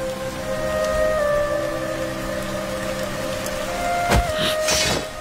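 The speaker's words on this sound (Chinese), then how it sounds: "竹林天降大雨， 土木皆湿，火点不起来。" Heavy rain falls in a bamboo forest as a continuous hiss beneath sustained music, with a sharp crack and rising swell near the end.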